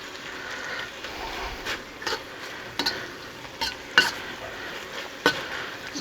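Marinated food frying in a pan, a soft steady sizzle broken by several sharp stirring and utensil knocks spread through the clip.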